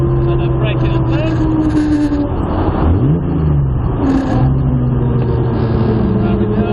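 A modified Jaguar E-type's engine roars loudly up close, its pitch sliding down under braking and climbing again after a shift into third gear, with a voice talking faintly over the engine.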